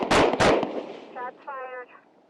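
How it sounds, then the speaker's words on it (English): Two loud, sharp gunshots ring out close together during a robbery stopped by police, followed by brief echoing tails and short harmonic tones after them. "Shots fired."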